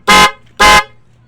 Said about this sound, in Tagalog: ni-on. Okay, sige busina.